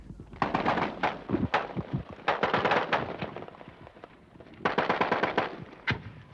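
Automatic weapons fire in a firefight on a bridge during the fall of Saigon in 1975. Sharp, rapid bursts crackle in clusters with brief pauses, then a final group of rounds rattles out, loud and fairly close.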